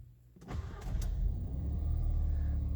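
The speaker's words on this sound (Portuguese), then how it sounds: "quando você acaba de ligar o carro, que ele está com o motor frio, ele acaba ficando um pouco com a rotação elevada" A cold VW Virtus Highline cranks briefly and fires up, then settles into a steady, slightly raised idle hum with a low engine rumble, close by and moderately quiet.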